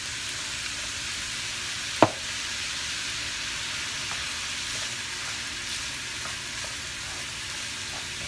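Rice stir-frying with soy sauce in a hot pan for house special fried rice, a steady close sizzle throughout with one sharp clack of a utensil against the pan early on and faint scraping, no talking.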